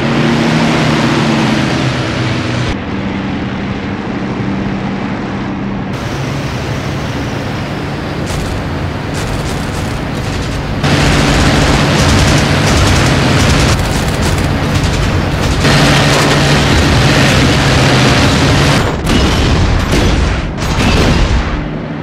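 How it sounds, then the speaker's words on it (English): Aircraft cannon fire in the flight combat game IL-2 Sturmovik, a loud sustained stream of heavy booming bursts over a steady engine drone, growing denser and louder in the second half. "and then hit him with the cannons"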